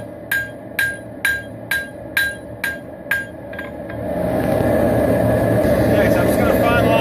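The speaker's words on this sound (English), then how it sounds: "But even though I'm forging out the bevels, you still want to start with a fairly symmetrical shape." Eight or so sharp, ringing hammer blows strike steel while forging the bevels of a dagger, evenly spaced and close, before giving way to a loud steady roaring blower or forge noise.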